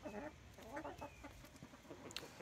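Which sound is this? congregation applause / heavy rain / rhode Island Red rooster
rhode Island Red rooster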